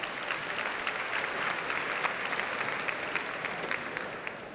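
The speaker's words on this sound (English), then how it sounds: "So please give yourself a round of applause." Steady audience applause fills a keynote hall at a tech conference, dense continuous clapping from a large crowd throughout, fairly distant and even with no talk over it.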